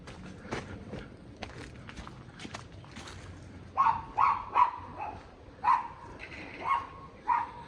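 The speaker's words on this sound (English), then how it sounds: "Got the little killer demon dog behind me." A small dog barks sharply several times behind someone walking through a Philadelphia graffiti area, the yaps coming in a loose sequence near the listener over faint footsteps and background noise.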